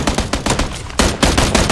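Rapid bursts of automatic gunfire from PlayerUnknown's Battlegrounds, loud and close, with a brief lull before another cluster of shots rings out.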